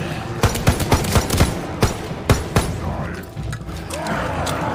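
Rapid bursts of automatic gunfire in a video game, sharp repeated cracks in quick clusters, loud and close, with some quieter mechanical noise between volleys.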